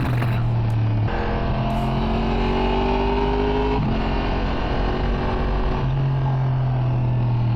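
A 2023 Yamaha MT-10 motorcycle with a Woolich remap accelerates hard in fourth gear, its loud, close engine droning continuously as the pitch climbs steadily and steps between rises.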